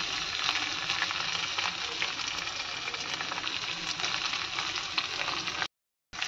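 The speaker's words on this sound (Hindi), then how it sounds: "तेल फुल गर्म हो चुका है, और इसमें मैं डाल रही हूँ अदरक" Grated ginger hits very hot oil in a pan, giving a steady, loud, hissing sizzle that crackles continuously before cutting out briefly near the end.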